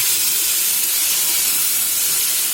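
Spices in hot oil hiss and sizzle loudly after water is added, a dense, steady steam-like hiss close by with no pauses.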